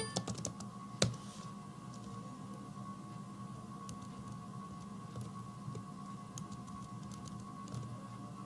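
Keys tapping on a computer keyboard while a sudo vi command is entered on a Linux machine, quick soft clicks in short bursts over a steady low hum, with one sharper knock near the start.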